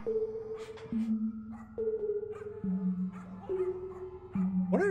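A dog in the video game Fortnite, heard during an in-game concert, gives a run of short yips and whimpering barks with pitch slides, close and fairly clear over quiet background.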